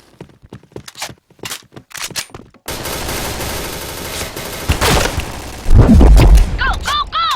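Gunfire in the online shooter Point Blank rattles in loud bursts and single shots, with footsteps and game effects in between, after a stretch of quieter clicks and brief sounds.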